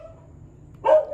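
A single short dog bark bursts out near the end after a quiet, low-humming room, close and fairly loud, with no one talking over it.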